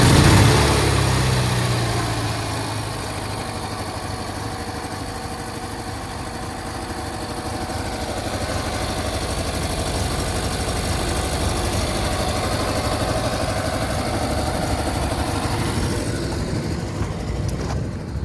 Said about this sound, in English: To start it up, all you need to do is hold down the start switch for a couple seconds and it'll fire right up.